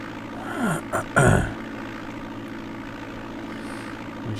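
A light aircraft's propeller engine drones steadily while taxiing on a grass runway in Flight Simulator 5.1, with a few brief louder bursts near the start before settling into an even hum.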